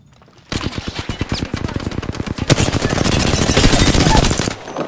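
Automatic gunfire in the video game Apex Legends, a loud close burst of rapid shots that starts abruptly and runs continuously for several seconds before cutting off.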